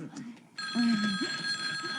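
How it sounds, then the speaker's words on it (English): Telephone bell ringing in a 1970s TV soap opera scene, a steady sustained electric ring starting partway through, fairly close, with a voice talking over it. "Oh, no, there's the phone."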